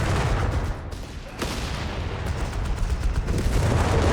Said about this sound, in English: Starstorm there getting hammered with heavy British automatic fire